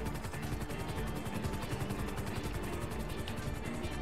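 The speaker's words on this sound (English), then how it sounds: "Alright, helicopter in front of us." A video game helicopter's rotor thumps in a rapid, regular rhythm, droning steadily and fairly loud throughout with no talk over it.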